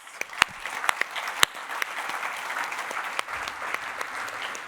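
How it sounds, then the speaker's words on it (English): Audience applause for panelists at a private equity conference, a dense, even clatter of many hands with a few sharp nearby claps standing out, sustained without talk. "then a big applause here for the panelists"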